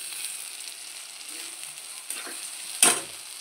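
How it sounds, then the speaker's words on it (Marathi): Tomatoes being sautéed in a pan for pasta, a quiet hissing sizzle with faint scraping stirs and one sharp clatter near the end, close by and without speech. "टोमॅटो आपल्याला मऊ होईपर्यंत 4 ते 5 मिनिट परतून घ्यायचे आहेत।"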